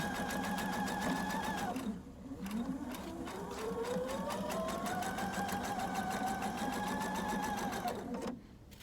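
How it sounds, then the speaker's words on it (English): A sewing machine runs almost continuously, stitching down the inner leg seam of a garment, its steady whirring motor loud and close, with a brief pause near the two-second mark and the motor slowing to a stop at the end. "so we just sew down it"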